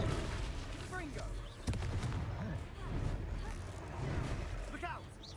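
Confringo blasting spells in the video game Hogwarts Legacy go off as a few sharp bangs and booms amid combat noise, with a player's voice talking over the battle.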